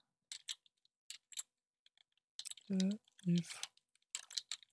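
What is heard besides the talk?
typing code on a computer keyboard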